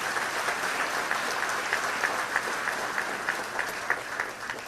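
An audience at a mayoral address in Milwaukee applauding for the city's fire department, steady sustained clapping from many hands with a few louder claps standing out, filling the room without talk.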